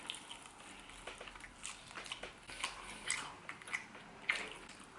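Close, crisp bites and chewing on crispy air-fried chicken with a flour batter: a series of crunchy, irregular crackles at low volume, with no talking.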